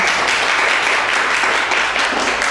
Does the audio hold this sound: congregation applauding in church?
yes